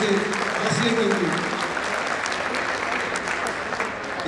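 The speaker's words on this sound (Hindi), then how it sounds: "जोरदार ताली चाहूंगे ऐसे जज्बे के लिए, ऐसे हौसले के लिए।" Audience in a hall breaks into sustained, even applause, a dense clatter of many hands that stays loud for several seconds with a brief murmur of voices early on.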